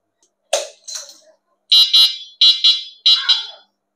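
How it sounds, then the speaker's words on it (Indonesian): A cheap electric bicycle's horn gives several loud, close electronic chirping bursts: two short honks, then a quicker run of paired beeps, with no other sound. "Nah, bunyinya lucu kan, bunyi klaksonnya."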